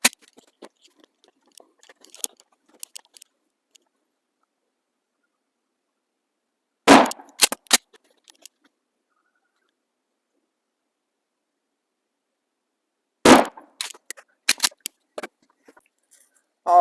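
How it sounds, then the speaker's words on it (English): A 12 gauge Mossberg Shockwave shotgun fires three slugs, each a sharp, loud blast spaced several seconds apart, followed by clicks and handling noises with quiet gaps between. "last 3 slugs here through the 12 gauge shockwave with the HighBall and safety sight"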